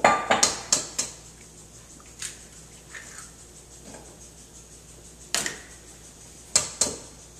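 Eggs being mixed into softened butter in a bowl, heard as sporadic sharp clinks and taps of a utensil against the bowl, a quick cluster at first and then more widely spaced knocks.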